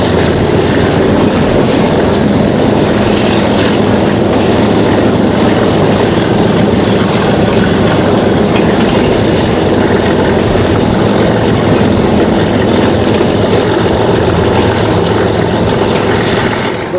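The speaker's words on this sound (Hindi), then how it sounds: "ज़बरदस्त गरज PHA-20 की" A PHA-20 diesel locomotive hauling the Hazara Express in Pakistan roars loudly and without a break, its heavy engine drone and rumbling wagons filling the whole stretch.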